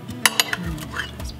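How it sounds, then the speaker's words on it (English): A knife cuts into the flaky, firm crust of a beef mince pie, giving a few quick crisp clinks and scrapes against the dish, close and brief, with a voice murmuring faintly underneath. "Cut into the crust and it's so flaky but firm, which is good."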